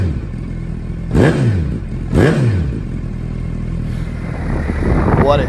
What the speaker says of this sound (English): let's hear that CT Series Brock's Performance exhaust system rumble.